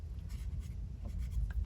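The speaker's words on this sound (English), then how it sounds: "Let's ink around the edges a little bit" Soft scratchy rubbing of ink being applied around the edges of a tag cut from a manila folder, close and quiet, short strokes over a low background hum.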